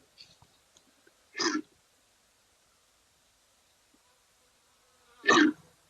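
Kori bustard calls at a wildlife camera in Africa: two short, harsh, choking bursts, one near the start and one near the end, separated by quiet, moderately loud with no talk.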